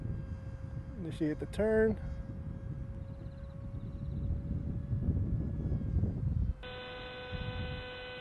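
An Axon Phoenix model aircraft engine runs at full throttle, giving a steady, thin whine under gusting wind noise. A voice speaks briefly early on, and the tone shifts near the end.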